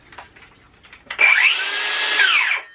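A Dewalt 20V 7 1/4 inch cordless circular saw spins up with a loud, steady motor whine after a few quiet handling clicks, runs freely for about a second and a half, then winds down as it stops.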